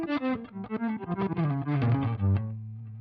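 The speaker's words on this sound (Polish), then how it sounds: "I to ma teraz trochę brzmienie takiego syntezatora, wiesz." Chords played on an instrument through heavy effects and distortion, giving a synth-like tone, a series of plucked chords sliding downward before ringing out into a sustained fade.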